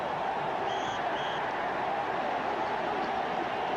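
Loud stadium crowd roar at a 1990 NFL football game, Houston Oilers at Kansas City Chiefs, a steady wash of massed voices holding at an even level throughout, with a couple of faint whistle-like tones early on.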